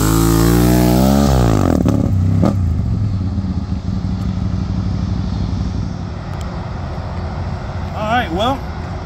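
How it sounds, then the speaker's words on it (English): A 2008 Can-Am Spyder GS Grand Sport three-wheeled motorcycle takes off nearby, its engine revving sharply upward then droning as it pulls away, with a brief clatter and a later short rev. "Give us a demonstration on the takeoff."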